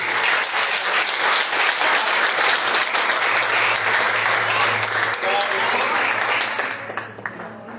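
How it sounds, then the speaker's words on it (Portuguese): Church congregation applauding loudly and continuously, a dense steady roar of clapping from a large crowd that tapers off at the end. "Aplaude bem forte para Jesus."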